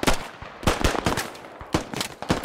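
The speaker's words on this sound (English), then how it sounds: "Shots, shots, shots." Rapid gunfire in the SquadOps video game, with sharp close shots and bursts coming in irregular clusters.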